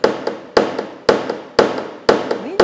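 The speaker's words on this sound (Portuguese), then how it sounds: "E com o meu martelo, eu quero baixar esse ponto aqui." A small hammer strikes a dent in a car body panel during paintless dent repair, giving five sharp metallic taps at an even, unhurried beat, each tap trailed by a lighter secondary tick and a brief ring.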